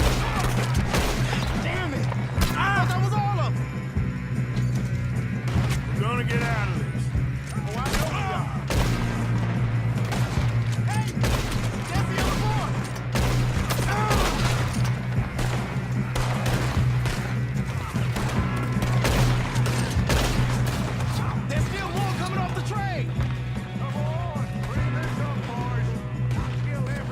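Gunfight in Red Dead Redemption 2, with dense, rapid bursts of overlapping gunshots cracking throughout over a steady low background drone and scattered voices.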